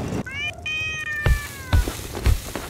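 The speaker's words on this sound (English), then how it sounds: "This cat needs to shut up." A cat meows in a drawn-out, wavering call close by, followed by three short low thumps, with faint talk in the background.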